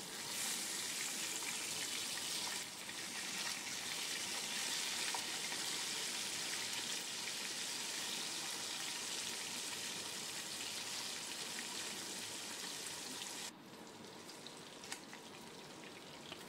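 Katla fish pieces frying in hot oil in a pan, a dense, even crackling sizzle running steadily throughout, close and moderately loud, easing slightly near the end with no talking.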